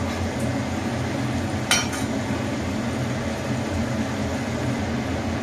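Carrot, potato and egg pieces frying in a pan over a raised gas flame, a steady close sizzle with faint clinks of utensils against the pan.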